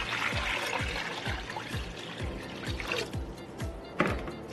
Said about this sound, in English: You want to fill that bowl with water.